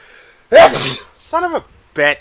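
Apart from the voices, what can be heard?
sneeze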